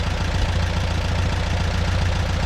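A small Massey tractor engine idles steadily nearby, a loud low rhythmic chug with no voices over it.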